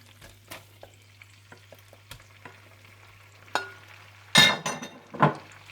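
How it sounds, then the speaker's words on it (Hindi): Chicken goes into hot butter in a pan after a few light clinks of a utensil, setting off short, sharp bursts of sizzling that fade between stirs. "जैसे ही मक्खन गरम हो जाए तो आप इसमें डाल दें चिकन।"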